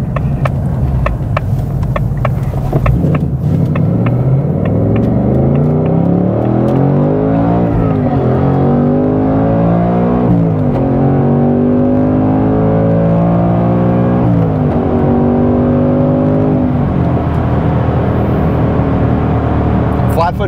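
Ford Mustang Dark Horse on an autocross outing pulling hard at full throttle, its loud engine note climbing through several rising sweeps with gear shifts between them, heard close from inside the car.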